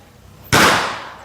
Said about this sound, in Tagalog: Yung mga bata nag-aano ng boga, baka naririnig nyo sa background.